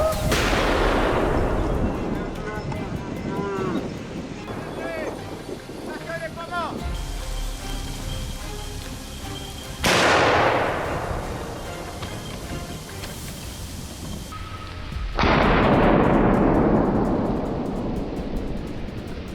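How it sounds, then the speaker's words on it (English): Two heavy gunshots boom out during a wild boar hunt in a forest, each a loud sharp crack with a long rolling echo, the first landing near the ten-second mark and the second several seconds later, amid steady outdoor noise. "A precise, clean shot dropped one of them right where it stood"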